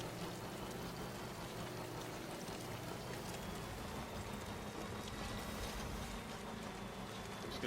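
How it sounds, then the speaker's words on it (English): Steady rain falls in the Death Stranding video game near a shoreline, a constant broadband hiss with a low rumble beneath, continuous and even throughout without any talk. "looks like the rain's letting up"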